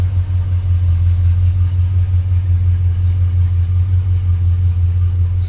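Box Chevy with a push button start idling, a loud steady low rumble that holds an even pitch throughout with no voices.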